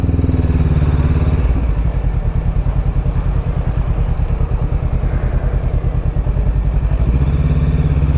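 A 2020 Honda CBR500 motorcycle engine drones loud and close while riding, its steady pulsing note rising and dipping with throttle.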